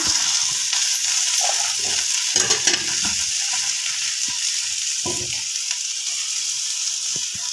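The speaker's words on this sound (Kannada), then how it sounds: "ಜಲ್ದಿ ಹುರಿತಾವ್ರಿ ಎಣ್ಣೆ ಹಾಕೋಣ" Okra frying in oil crackles and hisses steadily, with intermittent scraping and stirring knocks from a spatula close up.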